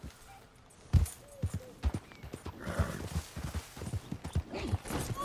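Quick clip-clop horse hooves in Red Dead Redemption 2 in an irregular rhythm, fairly close, with scattered thumps and short game-like tones over a busy background.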